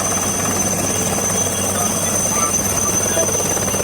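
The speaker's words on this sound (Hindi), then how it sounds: "वायुसेना का हेलीकॉप्टर है जिसे यहां पर उतारा गया है।" An Indian Air Force helicopter after an emergency landing on the Ghaziabad–Palwal expressway, its rotor and engine drone steady and continuous for a few seconds beneath a news report.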